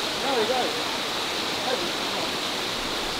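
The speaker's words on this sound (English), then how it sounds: "Nice and refreshing here, absolutely beautiful with the water running down" A waterfall in the Scottish Highlands pours down steadily in a broad, rushing hiss, with a couple of faint voices briefly heard over it.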